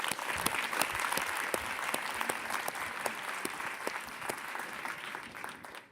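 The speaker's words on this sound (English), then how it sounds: "Please give her a huge round of applause, Amanda Nguyen." Audience applause welcoming Amanda Nguyen onto the stage at MCON 2017: steady, dense clapping from a large crowd, close and even, with sharp individual claps standing out throughout the full six seconds.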